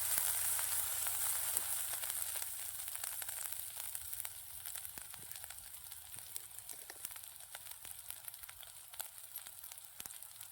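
Bitter gourd (karela) sautéing in a pan over a wood-fired chulha, a steady soft sizzle with faint crackles running evenly throughout, fairly quiet and with no voices.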